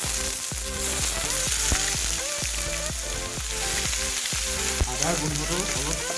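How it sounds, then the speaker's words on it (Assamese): Ginger-garlic paste sizzling loudly in hot oil in a wok for an Assamese pork with sesame recipe, a continuous close frying hiss with rhythmic stirring scrapes running throughout. "তেল গৰম হৈ গৈছে, এতিয়া আমি ইয়াত আদা নহৰু দি দিম।"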